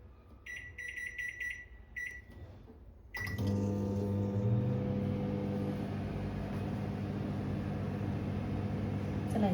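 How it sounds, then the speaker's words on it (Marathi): A microwave oven hums steadily while roasting grated coconut, after a short stretch of soft electronic beeps; the low drone with its faint whine continues evenly to the end, with no talk. "मी मायक्रोवेव्हला हे 4 मिनिटाचं मी भाजून घेणार आहे मायक्रोवेव्हमध्ये"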